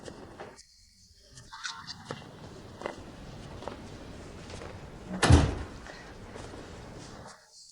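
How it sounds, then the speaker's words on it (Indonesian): A house door is opened indoors, with faint shuffling and movement followed by one louder thud of the door mid-way, then quiet. "Pintu sudah terbuka."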